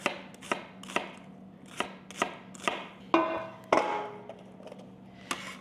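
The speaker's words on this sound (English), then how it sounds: "So I'm just going to chop up an onion and get that cooking." A knife chops an onion into bite-sized pieces on a cutting board, a steady series of sharp, close thunks spaced roughly every half second, with a low kitchen hum underneath and no talking.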